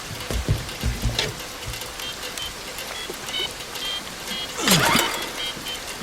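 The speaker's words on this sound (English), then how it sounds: "all the sound effects of the water hitting the boat" Constant patter of rain and water splashing against a surface, with a few low thumps early on and a brief whooshing surge near the end.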